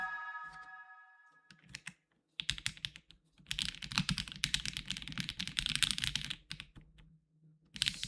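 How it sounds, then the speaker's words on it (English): Someone types on a mechanical keyboard fitted with HMX switches, producing rapid, crisp clacking in close bursts separated by short pauses. "don't you want a keyboard to sound like this?"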